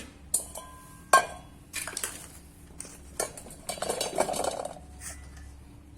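Gunda berries are tipped from a container into a metal pot for Gujarati pickle, giving a sharp clatter followed by several rattling, tumbling bursts and clinks against the metal, close and clear, with no voices.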